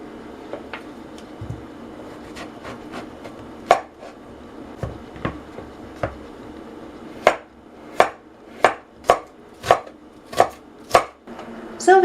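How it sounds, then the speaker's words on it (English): A knife chops onion and zucchini on a cutting board, starting with scattered light taps and then settling into a steady run of sharp, evenly spaced chops that grow louder toward the end, with no talk. "Let's cut it, chop finely onion and slice finely"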